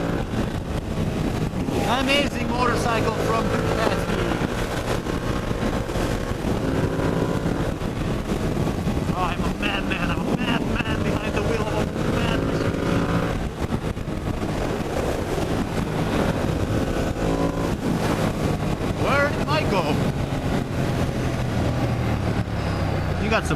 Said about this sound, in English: Amazing motorcycle from Ducati.